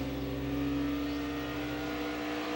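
NASCAR stock cars race at the 2009 Auto Club 500 in California, a dense, continuous engine roar with a steady drone and no pauses, loud and unbroken throughout.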